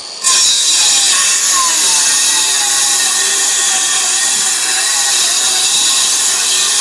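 A circular saw rips timber boards down to size while framing a garden room wall, its loud, steady cutting whine running unbroken from start to end with no talking.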